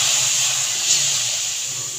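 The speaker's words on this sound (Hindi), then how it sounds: "घी बहुत ज़्यादा गर्म हो गया है। अब ये थोड़ा थोड़ा करके मैं हलवे के अंदर डालती जाऊंगी" Very hot ghee poured into besan halwa gives off a steady, loud, bright sizzling hiss that swells briefly and then tapers slightly, close and without speech.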